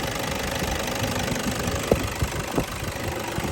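A 2013 Toyota Hilux Vigo Champ 2.5 VN turbo diesel runs at idle with its drive belt and pulleys turning, a close, steady diesel clatter with a couple of sharper knocks standing out.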